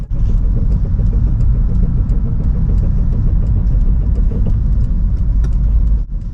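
A car engine runs steadily with a continuous rough hum and a faint repetitive ticking rattle, close and loud, briefly dipping near the end.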